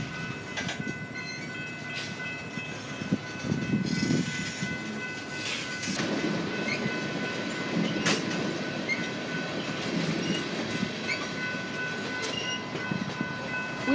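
A freight train rumbles by steadily on a railway in Rosenberg with clattering wheels and metallic squeals, loud and close, with sharp clanks rising above the continuous roar.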